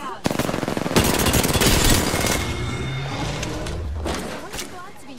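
Loud, rapid automatic gunfire from Apex Legends, with fast bursts of shots close by that rattle on for a couple of seconds and then thin out, while voices talk over the shooting.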